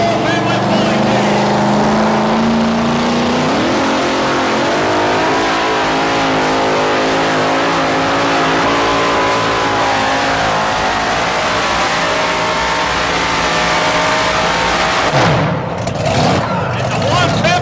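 The Bad Dog Ford pulling truck of the Stowe family team roars at a 1987 truck pull, its engine revving hard in a sustained, loud, rising and falling blast, under an announcer's voice over the loudspeaker.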